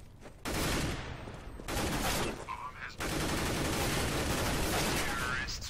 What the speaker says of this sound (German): ich drück mein Dauerfeuer durch